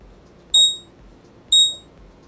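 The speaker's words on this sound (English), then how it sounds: "that alarm actually scared me" An electronic alarm emits two sharp, loud beeps about a second apart, each a clean high tone with quiet background between.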